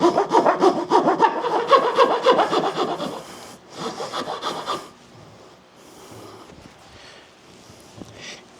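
A rat tail file rasps back and forth in wood, shaping a slot for small winglets; rapid, rhythmic strokes sound close and crisp for about three seconds, then a short second burst, followed by quiet scraping and handling noises.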